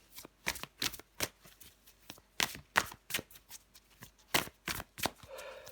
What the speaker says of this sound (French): je prends encore une carte pour vous, les poissons